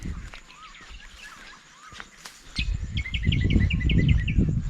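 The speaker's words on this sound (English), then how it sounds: "It's lovely to hear the birds again." Birds sing in the Northern Territory bush near waterfalls at Long Lagoon, with clear rising whistles and then a quick repeated chirping series, over insect buzz and rustling footsteps that grow louder.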